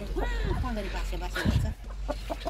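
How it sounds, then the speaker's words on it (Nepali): Chickens cluck on a rural Nepali homestead among a large flock, short fowl calls close by mixed with people talking. "कति धेरै कुखुरा रहेछ"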